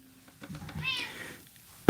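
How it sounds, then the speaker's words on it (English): A pet cat named Percy gives one faint, rising and falling meow in a quiet room, followed by a sudden loud thump at the very end. "My cat is acting up over there."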